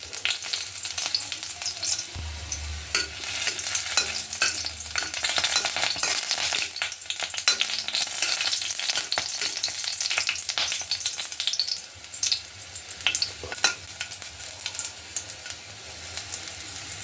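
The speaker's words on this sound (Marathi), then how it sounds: "गोडे तेल घालायचं आहे तेलही गरम झालेलं आहे आपण त्यामध्ये चार पाच छोट्या आहेत लहान मोठ्या लसूण पाकळ्या टाकायच्या आहेत" Four or five small garlic cloves fry in hot sweet oil, giving a steady, dense crackling sizzle that continues without a break, with occasional stirring clatter and no talking.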